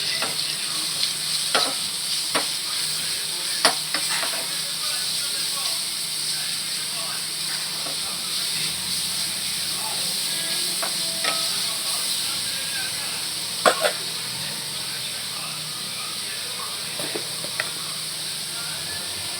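Broccoli masala curry sizzles in a pan as it is stirred, with a steady hiss broken by sharp spoon clicks against the pan, and faint talk in places.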